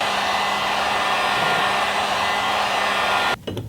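A heat gun runs with a steady, loud blowing roar while heating a small glued plastic piece on a Cherokee XJ upper quarter panel, cutting off near the end.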